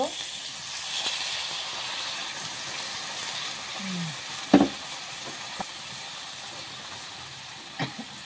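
Gravy goes into a crab curry cooking with flat beans in a pan, giving a steady low sizzle and hiss with a couple of brief utensil knocks, close and moderate, no speech.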